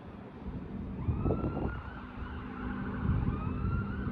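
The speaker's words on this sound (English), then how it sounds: "I don't know if that's a fire truck or an ambulance or whatever," A fire truck siren wails steadily in the distance, its rising and falling tone carrying over low traffic rumble.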